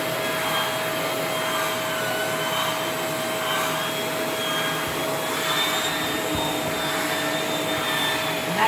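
Shark Rotator NV501 upright vacuum running on full suction with the brush spinning on carpeted stairs, a loud steady droning whine with a constant tone, close by and uninterrupted, with no talking.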